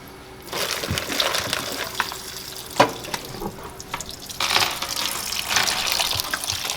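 Water from a tap running over oxtails being rinsed with apple cider vinegar in a sink, a continuous splashing gush with occasional knocks and surges.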